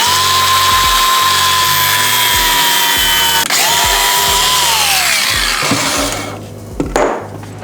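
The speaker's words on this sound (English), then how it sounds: "I like to just put a piece of painter's tape on it and then just cut it with a grinder." An angle grinder cuts through a line wrapped in painter's tape during engine work on a 2500 hp Coyote build, giving a loud, steady whine with a falling pitch near the end before spinning down.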